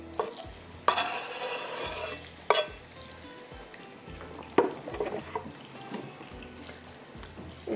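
Onions fry in a pan with a steady background sizzle, broken by several sharp scraping stirs at irregular intervals, heard close with no talking.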